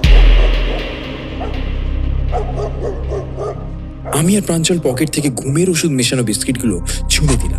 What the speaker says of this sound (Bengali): কিন্তু হতচ্ছাড়া কুকুরগুলো কোথা থেকে ঘেউ ঘেউ করে ছুটে এলো।